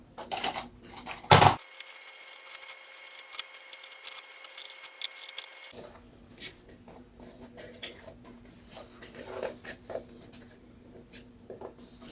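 Sewing clips are placed around the edge of a clear vinyl pouch to mark the excess for cutting, giving small close clicks and plastic taps scattered through the clip with quiet gaps between them.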